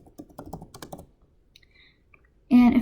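Typing on a computer keyboard, a quick run of light, close clicks lasting about a second, followed by quiet and then a sudden loud tone.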